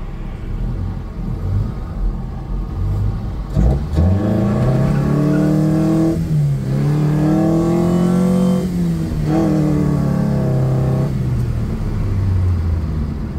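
A turbocharged all-wheel-drive EG car engine idles with a deep rumble, then revs hard several times in rising and falling sweeps, loud and close, with no one talking.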